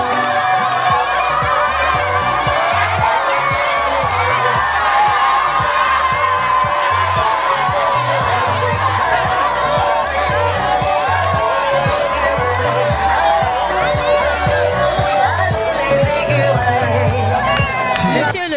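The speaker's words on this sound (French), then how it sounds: "Sous vos applaudissements, s'il vous plaît, mesdames et messieurs." A big crowd cheers and whoops loudly and without pause at a trophy presentation during a football festival in Azannou, Benin, with music playing and voices shouting throughout.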